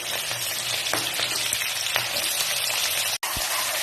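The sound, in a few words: beans and carrots frying in hot oil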